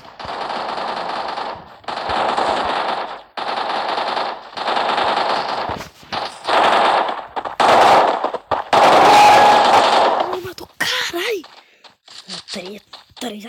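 Rapid automatic gunfire from a video game, loud bursts of machine-gun fire repeating in several long volleys with short gaps, then scattered shots as a voice talks over the end.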